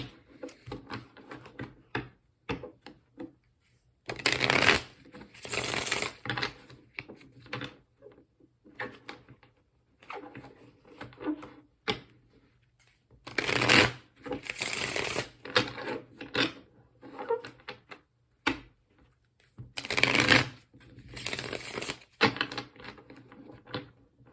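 A deck of tarot cards is shuffled by hand in several bursts of rapid riffling and slapping, close and crisp, separated by quieter stretches of handling taps and rustles.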